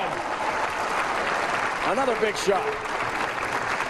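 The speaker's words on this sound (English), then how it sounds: "Fans cheering him on." Bowling fans in the arena at the American Bowling Congress Masters cheer and applaud, a loud sustained crowd roar with a swell of cheering, while a commentator talks over it.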